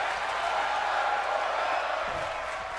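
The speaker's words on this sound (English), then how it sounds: "And this crowd now chanting fight forever." A WWE2K25 wrestling arena crowd in a steady, rolling roar of chanting and cheering, sustained throughout at moderate loudness beneath the match atmosphere.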